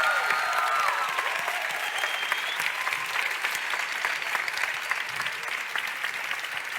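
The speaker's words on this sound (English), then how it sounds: "Let's give them another round of applause." Audience applause for competition teams at a grand final event, a dense sustained clapping that fills the whole stretch, loud at the start and easing only slightly, with no voices over it.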